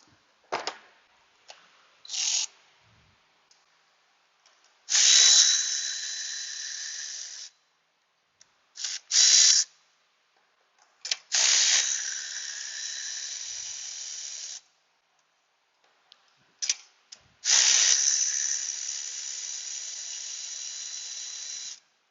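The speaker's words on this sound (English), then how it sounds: "Go after my Milwaukee battery powered ratchets and tools like that" Milwaukee battery-powered ratchet working on an engine, several short bursts of high whining spin separated by pauses and small clicks, close and fairly loud, with no talking.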